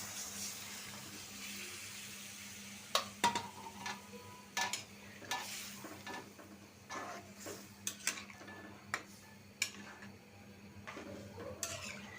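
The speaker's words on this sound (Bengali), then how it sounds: "আমার তরকারিটা কষানো হয়ে গেছে এখন জল দিয়ে দিব" Rohu fish curry in a pan, its spices fried down, with water poured in, giving steady sizzling and bubbling broken by several sharp clinks and scrapes of a utensil against the pan, close and moderately loud with no talk.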